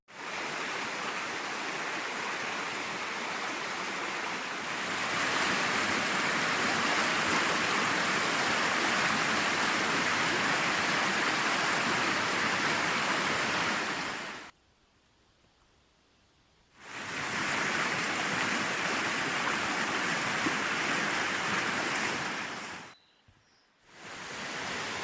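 A river runs strongly near Wilhelmina Falls in Murrundindi, Victoria, Australia, its dense, continuous rushing roar cut by two abrupt silent gaps before resuming at full strength.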